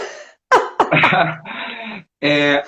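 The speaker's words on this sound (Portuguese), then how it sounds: "eu tô espirrando desse jeito, gente" Sneezing from a woman in a live chat stream, a few abrupt bursts with gasps and a moaning quality in between, close and fairly loud.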